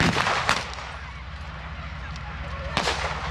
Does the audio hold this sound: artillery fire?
yes